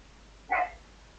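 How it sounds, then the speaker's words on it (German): A single sharp dog bark indoors in a room, close and fairly loud, standing alone against quiet background noise. "So, Entschuldigung, Leute, das ist mein Hund."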